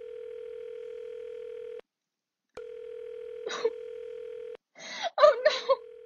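Telephone being dialed in a radio drama: a steady dial tone hums, cuts out briefly, returns, then gives way to a few short clicking, tonal bursts of dialing.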